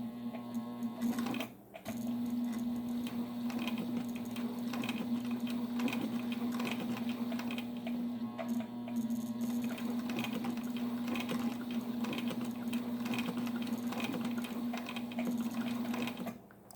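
A sewing machine with a 1/4 inch foot sews slowly through leather and vinyl at its longest stitch length, a steady close motor hum with rapid mechanical ticking after a brief pause at the start.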